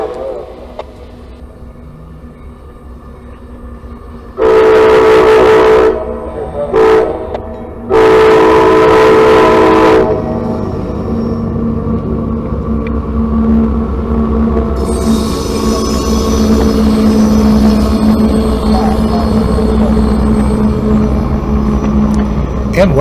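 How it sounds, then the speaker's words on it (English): A CSX freight train at a road crossing on Osie Davis Parkway in Waycross sounds its horn loudly in two long blasts with a short toot between, then rolls past close by with a steady rumble and wheel noise. "So we thought, yes, this train's fixing to get his orders and go."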